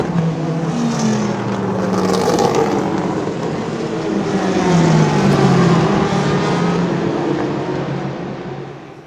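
A Ford GT race car roaring down the Mulsanne Straight at Le Mans at night at around 200 mph, its engine note rising and falling through gear changes, loud and close with no talk.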